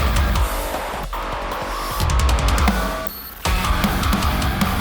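A fuzzy, glitchy transition effect inside a loud metalcore track: stuttering rapid bursts chop the full mix, then it drops into a short muffled gap before the band slams back in at full force.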